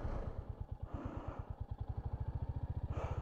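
A Royal Enfield Hunter 350 motorcycle thumps along over gravel, its single-cylinder exhaust beating in a quick, even, close rhythm with faint crunching and rumble in the background.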